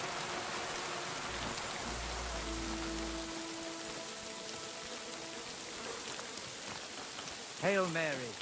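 Steady rainfall in Kingdom Come: Deliverance II, a constant soft patter of drops on surfaces with a low hum, faint throughout, and a brief chirping call near the end.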